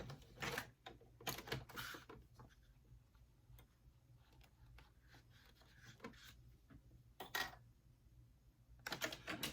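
A home embroidery machine stitching: quiet, rapid mechanical ticking in a steady rhythm, broken by a few louder clacks.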